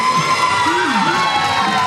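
A crowd at the Days of '47 Parade in 2024 cheers and shouts loudly, with children's voices and whoops. Dense and close, it runs continuously with talk mixed in.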